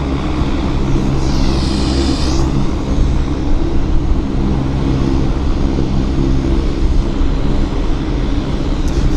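WestJet airliner at Vancouver YVR airport rolling for takeoff, heard from a distance as a broad, steady roar of jet engines with a faint higher whine, no voices.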